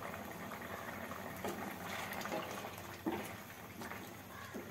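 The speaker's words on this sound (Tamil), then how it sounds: "இதை நல்லா கிண்டி விட்டுட்டு தேவையான அளவு தண்ணி ஊற்றி வேக வச்சுக்கலாம்." Vegetables boil in water in a cooking pot, giving a steady, close bubbling and simmering wash with a few louder pops and gurgles.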